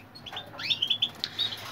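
A caged goldfinch hybrid chirps in a quick run of short, bright, high tweets and trills, fairly close and clear against a quiet background.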